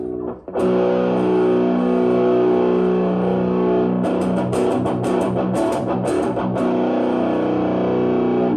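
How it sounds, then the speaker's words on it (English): A heavily distorted electric guitar played through a Superbadass distortion pedal rings out with sustained chords, then shifts into choppier, aggressive strummed riffs, loud and close. "So, turn the old Superbadass on, and let's see how that sounds."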